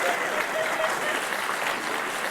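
An audience applauding, a dense steady wash of clapping with light cheering that holds evenly throughout.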